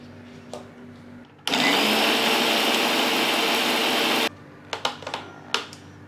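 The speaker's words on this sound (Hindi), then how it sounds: "बाद में हम मिक्सर में डालकर इनका पाउडर बनाएंगे" A mixer grinder roars loudly for about three seconds, grinding dry whole spices into chicken masala powder, then stops, followed by a few light clinks and knocks.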